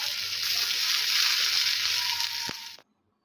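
Potatoes with chopped onion, green chili and cumin paste sizzle and fry in a pan, a steady loud hiss with a small clink near the end before it cuts to silence.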